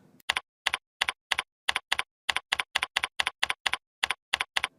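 Someone types a product description on a computer keyboard, giving a steady run of crisp, close keystrokes in quick bursts with short pauses between them, alone with no talking.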